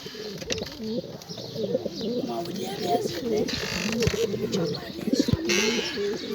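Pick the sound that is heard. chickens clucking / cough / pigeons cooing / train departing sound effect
pigeons cooing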